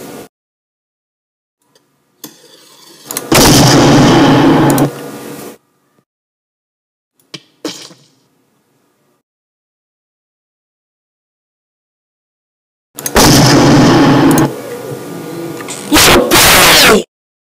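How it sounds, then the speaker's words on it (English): Cartoon cannon fire: two loud, noisy blasts separated by silence, with a few short pops in between. "it shot me with a cannon"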